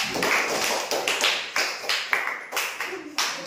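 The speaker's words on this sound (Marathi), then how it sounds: "कावेरीसाठी जोरदार टाळ्या." A quiz show audience claps for a contestant who just finished her turn, a loose run of about a dozen separate handclaps at close range, uneven in rhythm and fairly sparse.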